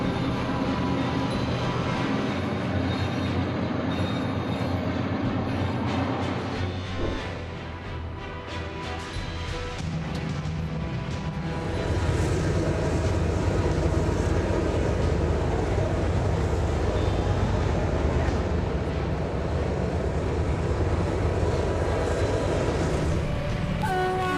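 A train approaches along railway tracks, a continuous heavy rumble with rattling cars and a horn-like tone, growing louder partway through and staying strong to the end, no voices.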